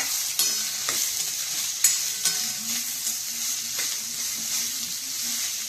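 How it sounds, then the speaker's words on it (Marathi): Pumpkin frying in ghee with cashews and almonds over low heat, a soft continuous sizzle broken by repeated spatula scrapes and stirring knocks against the pan, close and steady. "याच्यातच आपल्याला आता हा भोपळा टाकायचा आहे आणि छान भाजून घ्यायचा आहे तुपामध्ये आपल्याला।"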